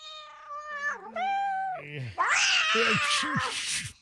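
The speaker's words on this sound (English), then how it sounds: "The cat was just meowing, just nonstop." A cat's meow played from a soundboard, with several drawn-out, wavering cries rising and falling in pitch, followed by shorter yowls and a harsher caterwaul layered with voices.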